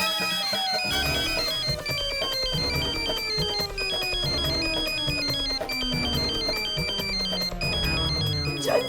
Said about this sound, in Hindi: सुंदर जल्दी फोन निकालो।